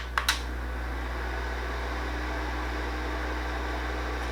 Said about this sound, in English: the sound of the fan doesn't bother us in any kind of way